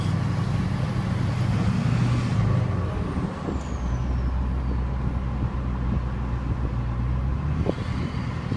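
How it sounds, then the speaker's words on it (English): LMM Duramax diesel with an EFI Live tune, a close, steady diesel rumble with a turbo whistle sliding up and down as the throttle is blipped, with a sharp air release near the end. "Turbo sounds great."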